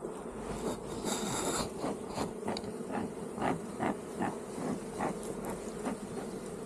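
Honeybees drone steadily at a hive entrance while smoke is puffed in, a dense, close, continuous buzz with individual bees zipping past now and then.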